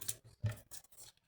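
A few quick, close scissor snips, three or four short crisp cuts in about a second, slicing through paper with nothing else audible.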